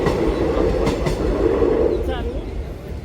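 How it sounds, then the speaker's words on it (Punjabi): A train rumbles past close by, a continuous heavy rolling clatter of wagons that keeps going throughout. "ਡੱਬੇ ਗਿਣੋ ਟ੍ਰੇਨ ਦੇ ਕਿੰਨੇ ਆ"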